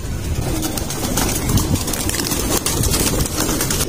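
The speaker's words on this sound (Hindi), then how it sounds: "कबूतर भी मौसम इंजॉय कर रहे हैं हवा शाह ले रहे हैं" Pigeons coo steadily on a rooftop after rain, with soft repeated calls close by, a few wing flaps and a light breeze in the background.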